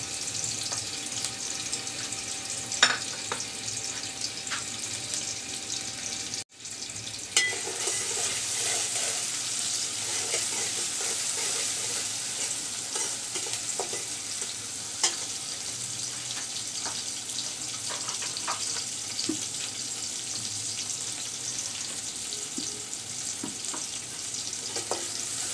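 Chopped onion and minced garlic fry in hot oil in a cooking pot, giving a steady, close sizzling hiss throughout with occasional small pops and clinks of stirring, and no talking.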